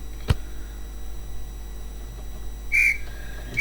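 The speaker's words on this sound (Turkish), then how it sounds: "Ve sol düdük. Maç bitti." A referee's whistle in a football video game sounds one shrill, sharp blast near the end, with a softer trailing tone after it over a quiet, hissy background.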